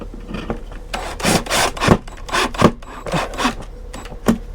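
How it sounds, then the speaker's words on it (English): Screws are driven into RV interior trim, a series of short, rasping, grinding bursts up close, irregular and separated by brief pauses, with no talking. "let's put these center screws in first."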